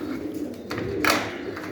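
Pigeons flock around a loft during young-bird season, soft cooing and wing flutters close by in a brief stretch with no talking.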